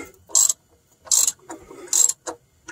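A ratchet clicks in short bursts during an oil change on a 1993 Dodge Dakota, four or five quick close-up ratcheting strokes separated by brief pauses.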